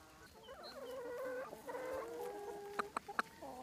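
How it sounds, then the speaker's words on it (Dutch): Biodynamic chickens and roosters on a farm cluck and murmur in overlapping, drawn-out calls at moderate distance, followed by a few sharp clucks, with no talk. "Onze biologisch dynamische kippen zijn hierdoor sterker en worden ook ouder."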